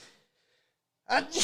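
A single sharp human sneeze bursts out loud and close after a near-silent pause, trailing off as a faint voice fades at the start.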